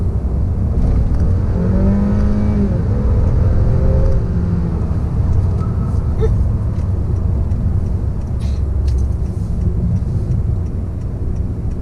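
A 2018 Honda Accord Touring with the 2.0L turbo engine accelerating hard, a steady loud engine and road roar lasting throughout, heard from inside the cabin with a faint rising tone early on.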